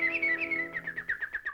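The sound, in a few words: birds singing in a Donald Duck cartoon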